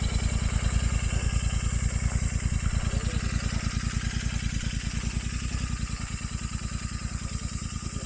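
A Royal Enfield Continental GT 650 twin idles outdoors, its engine thumping in a fast, steady, even pulse throughout, with a constant airy hiss over it and no speech.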